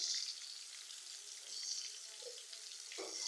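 Tomatoes with salt frying in oil for a spiced pabda fish curry, giving a faint, steady hiss with a few soft clicks and a brief scrape near the end, heard alone with no talk.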